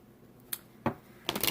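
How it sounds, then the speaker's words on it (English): Tarot cards being shuffled by hand, quiet and close: a couple of brief soft flicks followed by a longer papery riffle at the end. "So I'm shuffling up."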